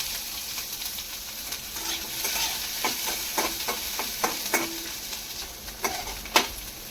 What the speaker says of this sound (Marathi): त्याच तेलामध्ये कांदाही छान लालसर होईपर्यंत परतून घ्यायचा आहे